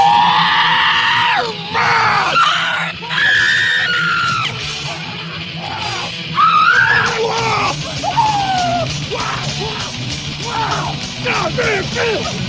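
A woman screams in a scene from the 1990 film Wild at Heart, with long, strained yells and shrieks that rise and fall, loud and close, sometimes breaking into grunting cries across the whole stretch.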